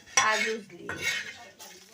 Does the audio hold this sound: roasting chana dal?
yes